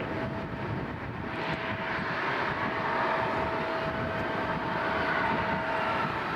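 A passenger airliner taking off from Toronto Pearson airport, its engines producing a loud, sustained jet roar that holds steady throughout with no speech.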